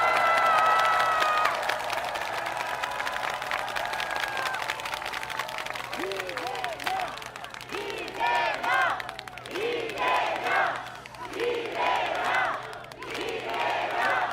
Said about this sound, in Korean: 서로 격려, 응원의 박수 한번 나누시기 바랍니다